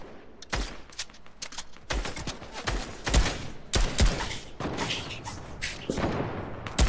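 Rapid minigun fire in a Fortnite duos match near a yacht, dense bursts of shots crackling loudly and continuously with heavy thumps throughout, no voices over it.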